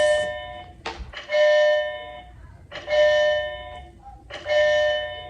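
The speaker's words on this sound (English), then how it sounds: "that is the 8:15 bell, meaning breakfast is done, go to class" An electronic school bell rings the 8:15 class bell three times in bursts, each a loud sustained tone with a sharp start, separated by short pauses.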